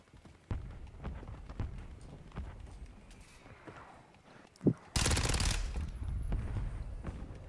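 Fennec submachine gun firing in the shooter game Warzone: scattered light taps and clicks, then a sudden loud blast of rapid fire that continues as dense noise to the end.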